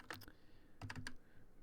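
Quiet typing on a computer keyboard, a few quick clustered keystrokes in two short bursts, faint and close, with no speech.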